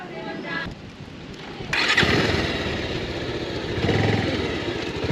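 Motorcycle engine running on a road ride toward a waterfall near Bandipur, a steady rumble that grows louder partway through and holds, with people talking over it.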